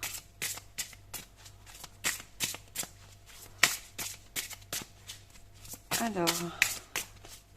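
A woman shuffles a deck of oracle cards during a reading, making a regular series of crisp, close flicks and riffles, with a brief spoken word near the end.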